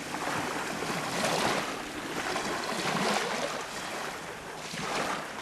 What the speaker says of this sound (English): there's not a sound to be had other than the water lapping the beaches